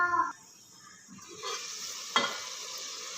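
Tomatoes cook covered with water in a pan for masoor dal, giving a faint low simmering hiss with a scrape early on and a soft clink partway through.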